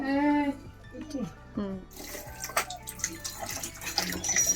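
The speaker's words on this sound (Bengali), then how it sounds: "এবার শাকগুলো একটু ধুয়ে তুলে রাখি" Tap water runs steadily while leafy greens are washed in a home kitchen, a close splashing rush that begins after a short stretch of talk.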